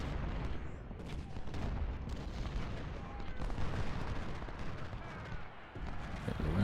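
Dense gunfire and booming artillery fill a Civil War video game battle at Antietam. Shots and blasts overlap continuously at mid distance, with no pauses in the barrage.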